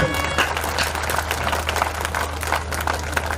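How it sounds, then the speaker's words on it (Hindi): A crowd at a humorous poetry recital claps together in unison, a rapid dense patter over a low steady hum, with voices mixed in beneath the clapping. "मेरा मन है एक बार सारे लोग संवेद रूप से तालियां बजाकर मुझे आदेशित करेंगे"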